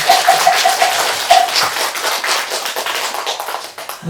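Dense, steady applause from a seated audience at a Buddhist dharma assembly celebrating a temple opening, a continuous wash of many hands clapping for a teacher that holds fairly level for about four seconds, with no voices over it.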